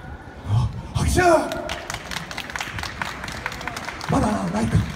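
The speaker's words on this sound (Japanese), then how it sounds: "拍手" Audience at a mall anniversary live talk show clapping in a scattered burst, with loud applause rising and then thinning out beneath ongoing talk and voices.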